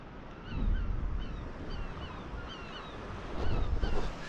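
Gull calls sound repeatedly over steady surf and wind noise on an uninhabited Scottish island, somewhat distant and fairly faint.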